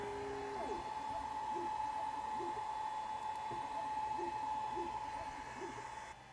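A laser engraver powered on for making a stamp, giving a steady mechanical hum with a constant tone and faint fan whir, close and unbroken, with a few soft tonal chirps layered over it.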